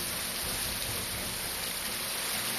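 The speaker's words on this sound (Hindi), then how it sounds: "दिल्ली के दिल कनॉट प्लेस में भी तेज बारिश से लोगों को सुकून मिला।" Heavy rain pours steadily in Connaught Place, Delhi, a dense, constant hiss of water hitting surfaces with no pauses.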